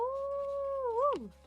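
People imitate a wolf howling at the full moon, a sustained voiced howl held steady then bending upward and sliding down at the end, fairly close over a low background hum.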